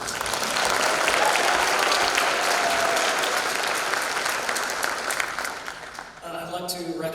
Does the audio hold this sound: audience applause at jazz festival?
yes